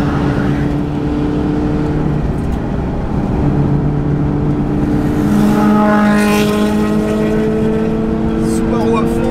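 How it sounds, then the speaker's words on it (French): A Mini GP3 race car comes up behind on the Nürburgring and passes, its engine whine rising in pitch over the steady in-car drone of a Peugeot 308 ByFactory. "On a une petite mini GP3 derrière, on va la laisser passer."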